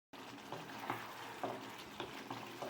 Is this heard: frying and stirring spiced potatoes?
yes